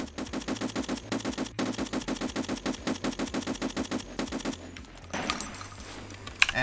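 An M1A rifle fires rapidly at a video game shooting range, a steady string of roughly two dozen sharp shots in quick succession, followed by a brief reload clatter.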